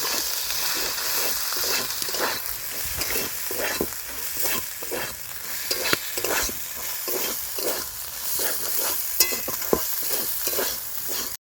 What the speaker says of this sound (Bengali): দিয়ে ভালো করে মশলাটা কষে নেব যতক্ষণ না মশলা থেকে তেল ছাড়তে শুরু করে